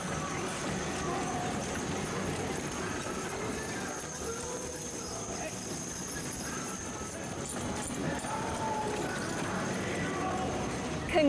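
Draft horses in an eight-horse hitch at a show class at the 2016 Indiana State Fair, with hooves clopping steadily through a continuous wash of arena and crowd noise and faint voices in the background.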